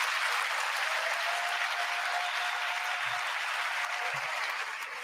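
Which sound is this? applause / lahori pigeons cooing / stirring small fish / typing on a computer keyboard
applause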